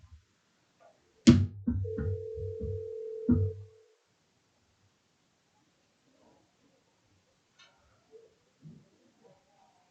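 A short telephone tone sounds during a county commission meeting call on speakerphone. The steady tone lasts about two seconds, mixed with brief clicks, and is followed by near silence.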